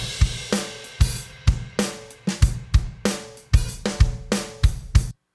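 A Logic Pro Drummer virtual drum kit plays a steady groove, with punchy kick and snare hits and crisp cymbals in a regular, loud pattern that stops abruptly at the end, with no voices.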